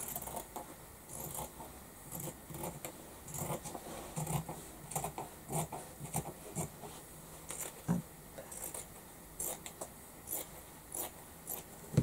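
Scissors trim excess fabric while a small rounded-flap pouch is sewn: a long string of soft, crisp snips and paper-like rustles at a steady pace, close but quiet, with no speech.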